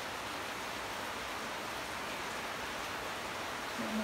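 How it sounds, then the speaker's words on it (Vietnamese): Heavy rain pours down in a steady, dense roar, with no breaks or variation, heard close with no voices. "Mưa to kinh khủng."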